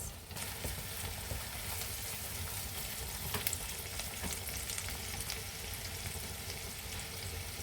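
Onions frying and browning in a pan for a tuna pasta bake white sauce, a steady close crackling sizzle that holds at a low, even level throughout with faint stirring ticks and no talk.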